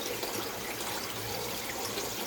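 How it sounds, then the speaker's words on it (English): Rice being rinsed in water, a continuous splashing and running-water wash, close and steady throughout. "I'm going to continue to rinse until the water come completely clear"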